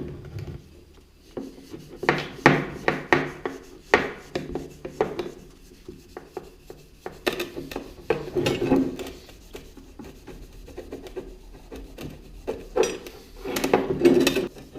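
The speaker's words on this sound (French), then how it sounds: "voilà plusieurs minutes que je frotte cet échappement sous tous les sens" Hand-scrubbing a moped exhaust pipe, a run of uneven rubbing and scraping strokes with occasional metallic clinks, close and moderately loud, with no talking.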